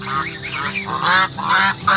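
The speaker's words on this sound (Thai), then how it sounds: "เป็นห่านจีนครับห่านจีนเทาและห่านจีนขาว" A flock of gray and white Chinese geese honks loudly and repeatedly nearby, harsh calls overlapping in quick succession.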